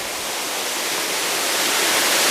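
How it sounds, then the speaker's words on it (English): A waterfall gives off a steady, broad rush of falling water that stays even and fairly loud throughout, with no other sounds. "Got a second nice waterfall down there."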